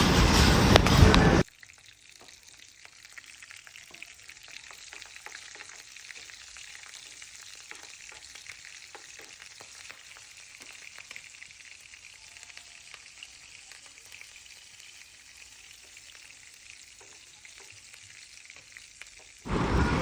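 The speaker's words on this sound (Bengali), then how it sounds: "কাঁচা মরিচগুলো কিন্তু ঠুস ঠুস করে ফুটবে এই সময়" Green chillies, cloves, cardamom and ground cumin sputter in hot oil for beef kala bhuna. A loud burst of sizzling opens and closes the clip, with a quieter, steady crackle and scattered pops in between.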